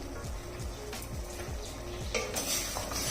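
A spoon scrapes and stirs in a cooking pot as ground spices, black pepper and red and Kashmiri chilli, are mixed into mutton. The soft, rhythmic sweeps repeat steadily at close range over a faint background hiss, with no voices.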